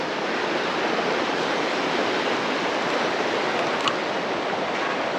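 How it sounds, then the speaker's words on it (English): Waterfalls on a monsoon trek pour steadily in a broad, continuous roar of falling water that stays even and loud throughout, with no voices. "So many waterfalls I can see over there."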